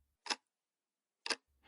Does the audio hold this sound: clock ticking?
yes